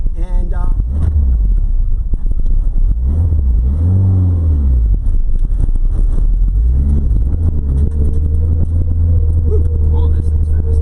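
A 1992 Laser AWD race car with a Mitsubishi engine running on E85 drones loudly from inside the cabin, its pitch rising and falling with several revving surges over a constant road rumble.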